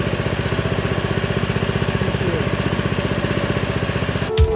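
Go-kart engine running close by, a loud, steady pulsing putter with an even rhythm that ends in a sudden clunk.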